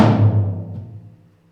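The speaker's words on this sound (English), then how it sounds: "This good old floor tom, the reason why it's called that is because it sits on the floor." A single resonant floor tom drum hit, loud and close, with a deep booming tone that rings out and fades over about a second and a half.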